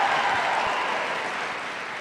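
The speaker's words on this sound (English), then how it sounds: "get another round of applause" Audience applause in a large event hall, a dense wash of clapping that stays even and slowly fades slightly over two seconds, with no voices on top.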